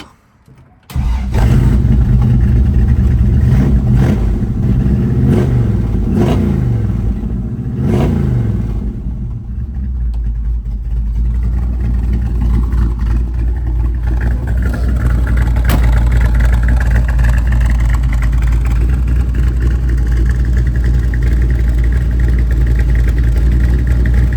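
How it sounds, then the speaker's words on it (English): A 1967 Ford Mustang Fastback's 392 V8 cranks and fires up, revs sharply several times, then settles into a deep, steady, rumbling idle that continues to the end. "I'm gonna fire it back up for you just so you can hear that exhaust one more time"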